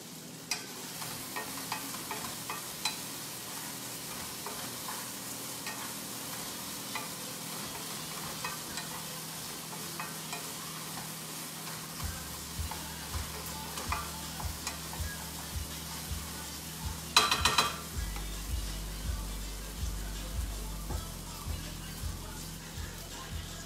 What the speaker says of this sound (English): And then you just cut them into chunks. Saute them, season them.